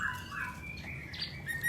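Male cucak cungkok songbird singing, a short burst of bright chirps and whistled notes over steady background noise.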